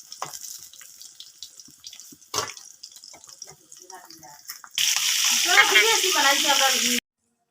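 Onion paste hits hot oil in a pan, a sudden loud, dense sizzle that bursts in midway and holds steady, after quieter scattered kitchen clatter, drips and clinks.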